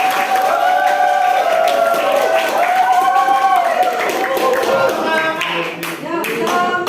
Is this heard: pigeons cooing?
no